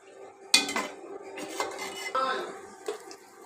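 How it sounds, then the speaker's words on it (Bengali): Metal pot clatters and stirring scrapes in a short burst, with a faint sizzle of dried chillies frying in hot oil. "প্রথমে হাঁড়িতে দিয়ে দিলাম শুকনো মরিচ ফোড়নে"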